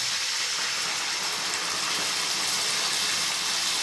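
Coconut milk and water pour steadily into a pot for vegetable pulao, a continuous hissing, gushing flow that stays close and even throughout, with no voices.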